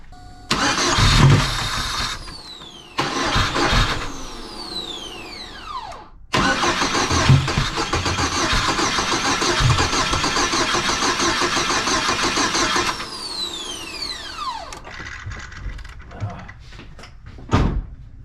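A GMC Sonoma truck engine cranks repeatedly, trying to start: loud, close bursts of starter whirring and sputtering, the longest run lasting several seconds, with pauses between attempts and a door-like clunk near the end.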